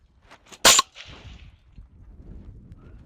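A single suppressed 9mm shot from a pistol-caliber carbine fitted with a Dead Air Wolfman suppressor: one sharp, loud muffled crack with a short tail, then quiet outdoor background.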